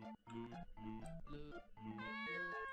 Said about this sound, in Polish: It's a kitty! Oh, how cute!